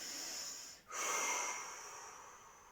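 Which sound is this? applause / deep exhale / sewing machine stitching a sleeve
deep exhale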